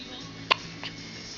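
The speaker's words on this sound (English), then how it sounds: "You have the hiccups?" A baby makes one sharp, close hiccup, then a softer second sound a moment later, against a quiet indoor room.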